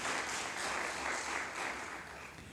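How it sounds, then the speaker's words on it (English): Applause from the audience at a secondary school debate final, a continuous crowd of clapping hands heard alone, slightly distant and tapering off. "Give her a round of applause,"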